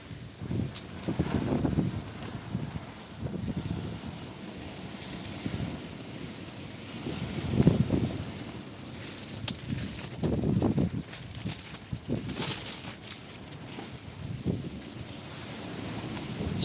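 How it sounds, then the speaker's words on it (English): Gusty seaside wind buffeting the microphone in uneven surges during cold sea fishing in Eastbourne, UK, with faint rustling and a few sharp knocks in the background; no speech. "it's cold and windy out here today"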